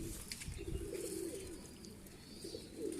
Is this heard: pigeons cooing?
yes